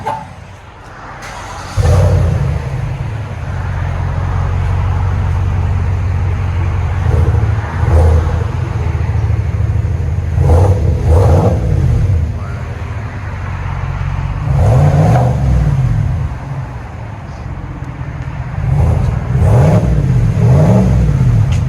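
A 2022 Chevy Silverado 5.3L V8 with a Flowmaster Flow FX exhaust fires up, then idles with a deep, loud rumble. It is blipped in several sharp revs that rise and fall back to idle, with no talking over it.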